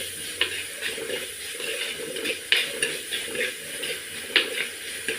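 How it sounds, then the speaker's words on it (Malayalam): Sliced onions sautéing in a pan for crab curry, with a soft steady sizzle and a few sharp clinks of a spatula against the pan every couple of seconds, close by and without talk. "ഇതൊന്ന് വഴറ്റിയെടുക്കാം."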